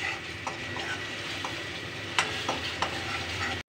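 Onion gravy sizzles as it roasts in a pan for Rajasthani gatte ki sabji, a continuous close frying hiss broken by repeated scraping stirs of a spoon, with no voices.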